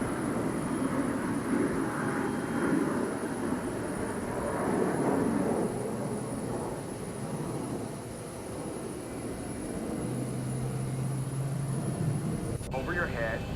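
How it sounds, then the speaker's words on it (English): Engines of a Boeing 737 in X-Plane 12 spool up during pushback, a continuous loud roar and hiss that persists throughout, with a brief low hum near the end. "Starting pushback, and you may start engines."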